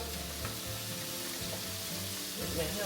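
Shrimp frying in a pan for a spicy crab and shrimp pasta, a steady close sizzle with soft stirring clicks and a few scrapes, with no talk.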